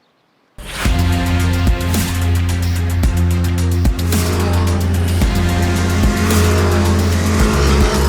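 Caterham 340R race cars racing at the Navarra circuit, engine roar cutting in abruptly and holding loud and close, with repeated revving shifts and gear changes throughout.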